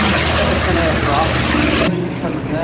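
A Grumman Bearcat propeller fighter flies at the Duxford Flying Legends air show in 2019, its loud, steady piston-engine roar filling the air before abruptly dropping to a lower, more distant drone, with a commentator talking over it.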